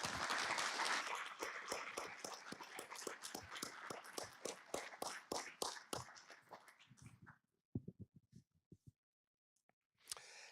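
Audience applause at the GFA Congress 2023, a dense burst of clapping from a seated crowd that thins into scattered claps and fades, with brief quiet and a final short swell at the end.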